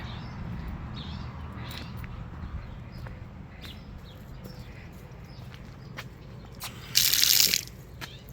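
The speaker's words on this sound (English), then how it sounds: "And then you got the water faucet over here." A water faucet at a Kern River campground near the restrooms gushes in a brief, hissing spurt near the end. Before it, quiet outdoor ambience carries scattered small clicks and knocks.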